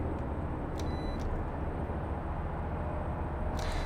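AI traffic cars roll past in Euro Truck Simulator 2 with a steady low rumble of engines and tire noise, a dense and even road drone broken by a few short higher tones.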